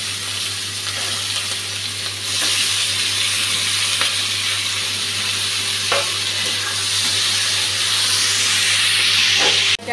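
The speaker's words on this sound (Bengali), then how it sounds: "টমেটোটা ভালো করে ভাজা হয়ে গেছে," Tomato, onion and green chilli fry in hot oil after katla fish was fried in the same pan, giving a loud, continuous hissing sizzle that swells slightly midway, close up, over a low steady hum.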